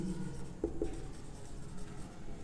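A pen writes notes on paper in a quiet room during a chemistry lesson, producing a soft, continuous scratching with a few light taps, faint and close.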